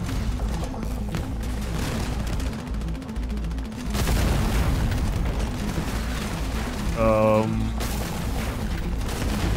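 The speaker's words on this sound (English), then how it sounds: "basically just keep shooting the gate till it breaks" Heavy bursts of gunfire and booming blasts from a video game brawl against Steel Troopers, hammering at a gate in rapid, dense volleys with a brief electronic warble partway through.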